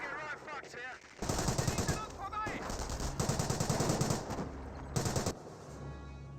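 Rapid machine-gun fire and rifle shots in Company of Heroes 1, a World War II strategy game battle, roar almost continuously in dense overlapping bursts, loud and close against background battle noise.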